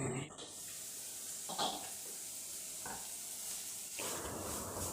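Cluster beans cooking in extra water in a covered pan on a gas stove, giving a steady hiss and bubbling simmer with a few brief clatters and stirring sounds, no talk over it.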